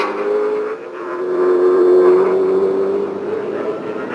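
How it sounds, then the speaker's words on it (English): Trans-Am race cars racing on track roar past with a loud, sustained engine note that rises and falls as they accelerate and pass nearby. "local driver Castro overtakes Bobby Sack to take the overall lead"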